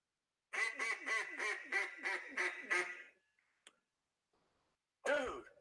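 A human voice imitates a duck call: a rapid run of about seven or eight loud, nasal quacks over two and a half seconds, then a short click, near silence, and a brief final burst at the end.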